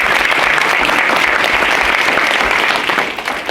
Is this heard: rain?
no